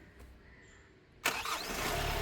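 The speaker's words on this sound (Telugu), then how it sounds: "సింగిల్ సెల్ఫ్లో కార్ స్టార్ట్ అయితే ఎటువంటి స్టార్టింగ్ ట్రబుల్ అయితే లేదు" A 2021 Kia Sonet HTX Plus engine cranks briefly and catches, then settles into a steady, fairly loud idle close by.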